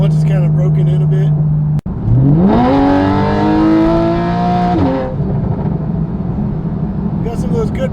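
A Porsche 911 fitted with a fresh Fabspeed exhaust revs up in a single sharp burst, its raspy high-pitched note climbing and holding for a few seconds before dropping back to idle, close and loud.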